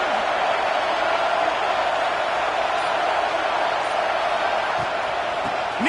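Stadium crowd roaring and cheering during a fourth-down stand in a college football video game, a loud steady wash of crowd noise with a few whoops rising near the end.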